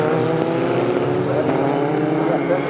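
Racing cars in a Monoposto championship race, classes F3A, F3B, Classic, 2000, 1800 and 1600, drive toward the turn-two braking zone, a loud continuous layered engine drone with harmonic whine and a commentator speaking over it.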